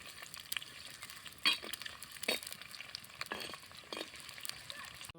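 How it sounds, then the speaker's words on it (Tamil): Onions fried in oil in a pan while making chilli fry, a faint, soft sizzle with a few scraping stirs at irregular moments, heard close and quiet with no talking. "எண்ணெயில் போடலாம் கொஞ்ச நேரம் வெங்காயம் வதங்க வரைக்கும் லைட்டாக கிணிக்கூடலாம்"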